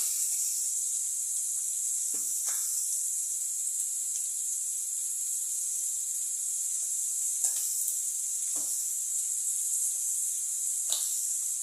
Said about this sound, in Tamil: நல்லா மூணு வெங்காயம் பெரிய வெங்காயம் போட்டுக்கோங்க வெங்காயம் வதங்கிறதுக்கு சால்ட்டு போட்டுக்கலாம்